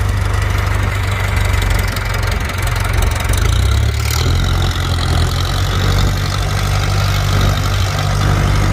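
A rare tractor engine idles steadily, a loud continuous low rumble with a regular knocking pulse that holds throughout, the pitch shifting slightly partway through.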